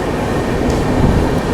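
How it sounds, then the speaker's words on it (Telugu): The Sanghamitra SF Express rumbles steadily at speed while overtaking a special train, a dense continuous rolling roar heard from on board, with no voices. "సో మనమైతే ఇప్పుడు ఆ స్పెషల్ ట్రైన్ ఓవర్టేక్ చేసుకుంటూ వెళ్ళిపోతున్నాం"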